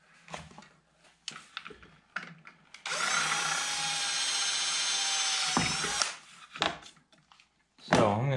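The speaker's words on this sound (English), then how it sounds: "I gotta drill a little bit bigger hole in there." A power drill enlarges a hole in a woodworking job, its steady high whine running for about three seconds, framed by nearby clicks and handling clatter before and after.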